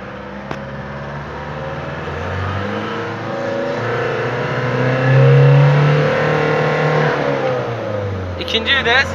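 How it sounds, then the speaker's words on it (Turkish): A 1967 Ford car pulls away in first gear, its engine note rising steadily and loudly over several seconds, close by, with steady roadside noise underneath. "Araba geliyor, dikkat. Vitesimiz 1'de."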